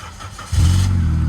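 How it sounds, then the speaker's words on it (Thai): A 2008 Chevrolet Optra 1.6 with automatic transmission starting up: a quiet lead-in, then the engine catches at once and settles into a loud, steady idle. "สตาร์ทครั้งเดียวติดนะครับ นิ่มๆนะครับ ติดนิ่มๆ เลยนะครับ"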